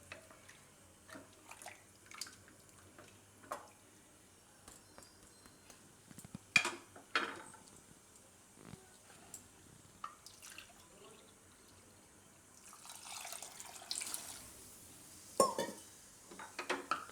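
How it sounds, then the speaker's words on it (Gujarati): A cup of water is poured into a pot of suran (elephant foot yam) khichdi, giving quiet intermittent splashes and trickles with pot clinks, then a longer, fuller pour near the end. "તો હજી આપણે આમાં 1 કપ બીજું પાણી નાખીશું."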